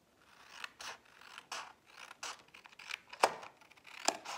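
Scissors snip paper being trimmed for a Christmas gift pouch, a series of short, crisp cuts in an uneven rhythm, close and quiet with no talking.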